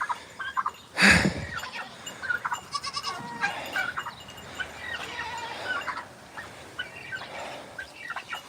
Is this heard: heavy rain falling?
no